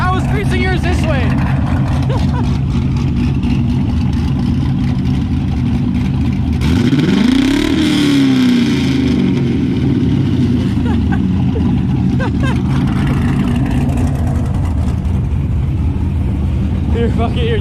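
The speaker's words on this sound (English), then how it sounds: "I start revving it" An LS-swapped Nissan 350Z drift car engine drones loudly and continuously, with one rev that sweeps up and back down midway through, while people talk nearby.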